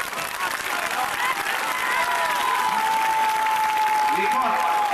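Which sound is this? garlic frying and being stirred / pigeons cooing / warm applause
warm applause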